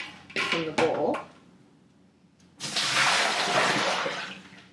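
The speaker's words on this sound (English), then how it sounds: "You just kind of drain all the water out and then dump the water out from the bowl." Water sloshes and splashes out of a bowl of washed kale in a kitchen, a few short pours followed by a louder, steady rush of water draining and dumping out, close and fairly loud.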